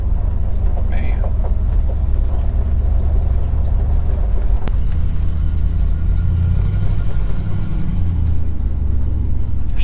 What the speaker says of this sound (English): I think right now we're just gonna go ahead and take it for its first drive.